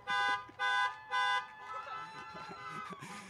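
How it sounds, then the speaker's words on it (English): Three loud, sustained electronic tones sound in quick succession, each about half a second, then give way to a quieter jumble of background noise and voices. "set off the car alarm"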